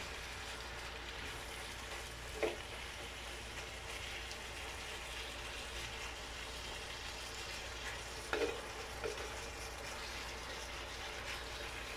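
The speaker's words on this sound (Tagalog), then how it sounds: "Let it simmer." Ginisang upo, bottle gourd sautéed with corned tuna, simmers quietly in a pan, giving a faint steady bubbling sizzle with a couple of soft utensil taps.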